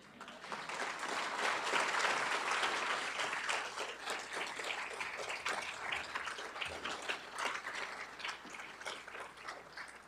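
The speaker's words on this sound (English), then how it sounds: "we'll give you more than 1 clap" An audience applauds veterans standing up at a State of the City event: a full, sustained round of clapping from a large crowd that fills the whole stretch, steady and fairly loud, with no voice over it.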